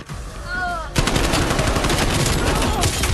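Close-range gunfire in the video game Call of Duty: Black Ops Cold War, an abrupt loud burst of rapid automatic shots that stays sustained and close after a brief quieter lead-in.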